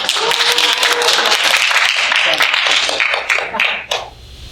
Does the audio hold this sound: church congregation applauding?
yes